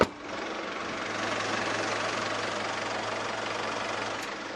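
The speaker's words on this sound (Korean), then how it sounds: "이 정도의 엔진 소음 기대하실 수가 있습니다" Diesel engine of a minivan idling steadily with the engine bay closed, a low even hum with muffled knocking that stays constant throughout, no voices.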